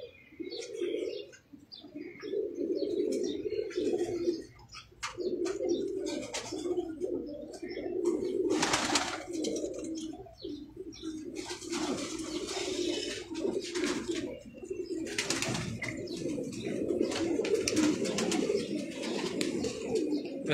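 Pigeons on a rooftop loft in Karachi cooing steadily at a fair distance, with soft chirps and occasional flutters, all fairly faint.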